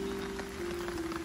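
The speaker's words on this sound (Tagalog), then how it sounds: "Ito na ulan-ulan talaga." Rain falling in a steady, soft patter, with a constant tonal hum running underneath, faint and continuous.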